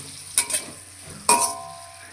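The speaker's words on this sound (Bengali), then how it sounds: "তেলের মধ্যে দিয়ে দিলাম টমেটো এবার দিয়ে দিলাম এর মধ্যে লবণ এবার একটু তেলের মধ্যে এটা নরম করে নেব" Tomatoes and salt fry in oil, with two distinct bursts of hissing sizzle and stirring about a second apart over a quiet background and no talking.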